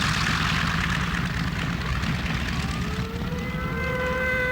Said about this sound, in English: Ernie, we've got an awful lot of airplanes coming.